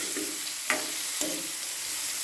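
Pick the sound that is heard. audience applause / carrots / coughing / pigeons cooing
carrots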